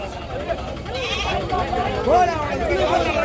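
Goats at the Gudur goat market bleat in wavering cries, one louder call standing out near the middle, over a steady bed of people talking and crowd murmur.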